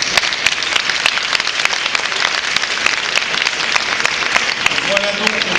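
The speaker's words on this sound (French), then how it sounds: "On peut vous applaudir très fort." Loud, sustained applause from an audience at an environmental business award ceremony, dense steady clapping filling the whole stretch with some voices faintly underneath near the end.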